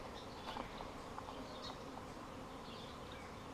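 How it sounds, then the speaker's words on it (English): Honeybees buzzing around their hives outdoors, a steady dense hum of many insects close by, with individual bees passing near now and then and no talking. "it is loud today with the buzz bees"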